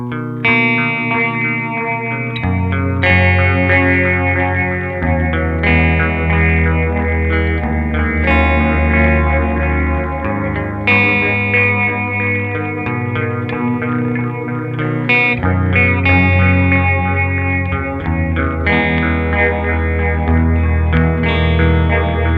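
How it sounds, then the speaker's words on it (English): A Red Witch Titan guitar pedal set to a straight phase sound colors an electric guitar played in chords and riffs, with a sweeping, swirling effect that stays loud and continuous. "now we're just getting the straight phase sound"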